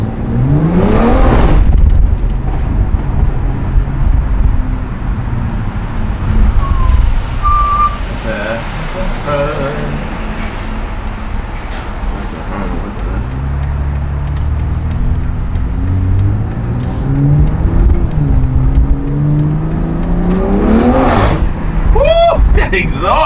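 A BMW 435i with a B58 engine and M Performance catalyst downpipe runs loud and close, its exhaust droning and rising as it accelerates, with a couple of sharp pitch sweeps near the end.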